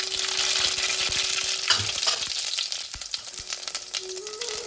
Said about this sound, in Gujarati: તો તેલ લગભગ નોર્મલી થઈ ગયું રાઈ નાખવાની જીરું